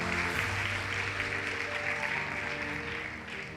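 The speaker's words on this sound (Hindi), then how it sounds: "एक बार फिर हमारे नए साथियों के लिए तालियां।" Applause for new members at a business-plan meeting: a steady wash of many hands clapping for several seconds, moderately loud, with a faint tonal hum running underneath.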